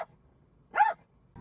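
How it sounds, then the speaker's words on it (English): A single dog gives one short sharp bark at close range amid otherwise quiet surroundings, with faint brief sounds at the edges. "I want Kiwi to stop barking"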